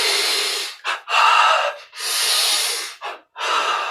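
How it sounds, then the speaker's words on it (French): A series of deep, forceful breaths during a yoga breathing exercise, with long airy inhales broken by short sharp gasps, close to the microphone and without speech. "on se redresse et on inspire profondément"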